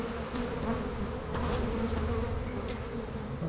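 A dense swarm of honeybees drones steadily around a hive, a close, continuous hum that stays loud and even throughout with no talking.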